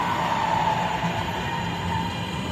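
Guadalajara subway train pulling into a station, a loud, sustained rumble with a metallic whine and faint wheel squeal, heard close up from the platform with no talk.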